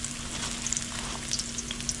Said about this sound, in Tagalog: Ako po gusto ko igisa ngayon kasi gawa na itong hipon.